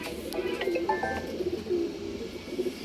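Soft, repeated low cooing from an old-line pigeon, a single male with a small beak, close by, coming in short bubbling phrases over faint background noise.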